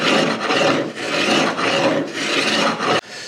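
A tool rasping and raking across a wooden workpiece in a series of about six steady back-and-forth strokes, close and fairly loud, with brief pauses between them.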